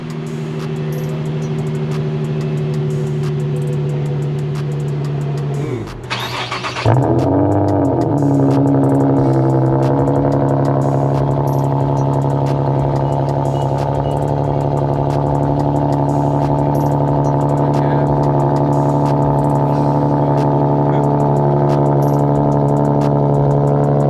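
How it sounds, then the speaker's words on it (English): An Infiniti G35 engine cold-starting after a quiet moment, cranking briefly and then catching into a loud, steady high idle that holds close by, slowly settling with no talking over it. "we gonna start both of the cars, and I'm gonna go ahead and give y'all a little cold start"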